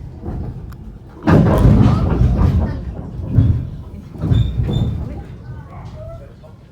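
White Pass and Yukon Route train comes to a stop in Skagway, with rumbling and clunking as it slows, a brief squeal, and people talking nearby.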